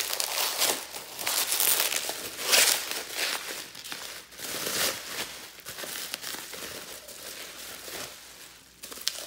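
Packaging crinkling and rustling as handmade stoneware and porcelain mugs are unwrapped, irregular crumpling bursts close by with no talking.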